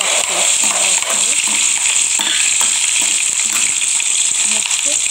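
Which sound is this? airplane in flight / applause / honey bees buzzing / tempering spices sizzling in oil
tempering spices sizzling in oil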